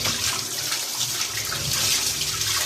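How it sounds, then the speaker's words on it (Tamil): An air conditioner filter is rinsed under a running tap, a continuous close hiss and splash of water with no voices. "பாருங்கள் நம்ம கழுவுறோம். ஆனால் நம்ம டேப் வாட்டரில்"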